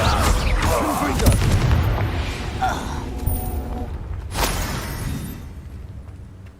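A fiery Confringo curse from the Hogwarts Legacy video game lands with a heavy boom near the start, followed by lighter crashes and a sharp second burst around the middle before fading, with brief spoken lines mixed in.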